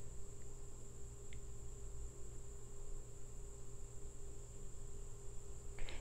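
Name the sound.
crickets chirping in a backyard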